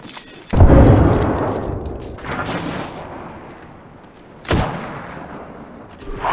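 Gunfire in the Apex Legends video game: a loud heavy boom opens, followed by scattered shots and a second sharp blast near the end, with no talking.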